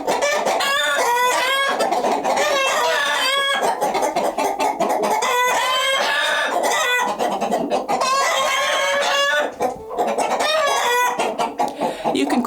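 Chickens cluck and crow loudly and continuously on a Swedish off-grid farm, a dense chorus of overlapping calls with a rooster's cock-a-doodle-doo among them, close by and with no talk.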